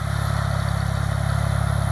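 A tractor running a side boom and rear chemical mower while spraying herbicide in fallow field rows hums with a steady, close mid-pitched engine drone and a regular pulsing throb.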